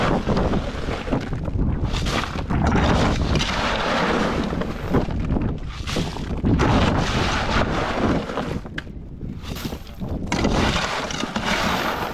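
Strong monsoon wind buffets the microphone in heavy, roaring gusts that rise and fall throughout, loud and close.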